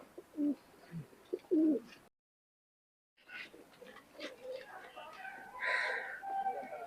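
Teddy pigeons cooing in a home loft, a few low, throaty coos close by, with a short gap of silence in between and faint background noise.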